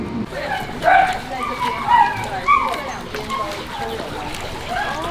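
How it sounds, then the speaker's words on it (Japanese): A dog barks a few times on a cacao farm in Taiwan, sharp and fairly close, mixed with people chatting nearby. "犬が鳴いてる。"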